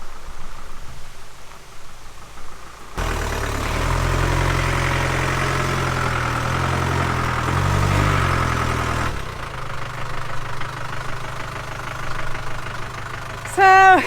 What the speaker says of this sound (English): It's reversing uphill on a really narrow bit, so let's see how we go.